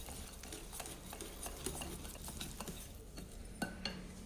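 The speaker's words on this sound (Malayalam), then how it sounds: "മൈദാമാവിൻ്റെ കൂട്ടുണ്ടല്ലോ, അത് കുറേശ്ശെ ചേർത്ത് മിക്സ് ചെയ്ത് കൊടുക്കണം." Maida flour being stirred into mango cake batter in a bowl, a steady soft scraping and stirring with occasional light clinks of utensil against the bowl, close and continuous with no talking.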